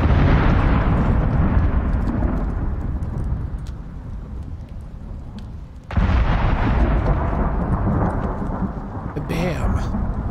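A thunder-and-lightning storm in the video game Icarus rumbles in steady, heavy waves, with a sharp fresh thunderclap about midway that swells the roar again.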